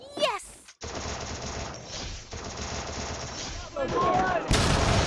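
Rapid bursts of gunfire in the mobile battle game Free Fire, loud and close, with quick repeated shots broken by short gaps and a player's voice talking over parts of the action.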